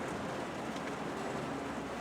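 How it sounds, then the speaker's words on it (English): In the Phoenix Wright: Ace Attorney video game, a heavy downpour forms a quiet, constant hiss of rain, even and unbroken throughout with no one speaking. "It's just raining real heavy in that courthouse right now."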